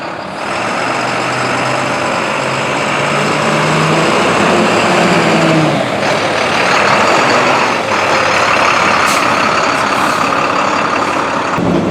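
A 2010 International 4300 truck on a test drive, its engine a loud, continuous low rumble throughout from inside the cab, with a brief rattle and a faint high whine partway through.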